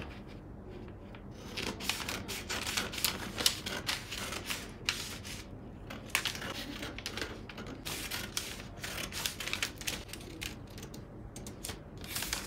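Paper scissors cutting out a paper sewing pattern make continuous close crisp snipping and rustling, with blades slicing through paper in a busy, uneven rhythm and no speech.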